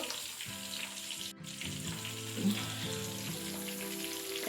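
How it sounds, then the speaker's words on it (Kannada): Fish frying in a pan, with a steady sizzle running throughout, moderately close, along with a few faint clinks and watery kitchen sounds and no talking. "ಇಲ್ಲಿ ಮೀನು ಫ್ರೈ ಆಗ್ತಾ ಇದೆ"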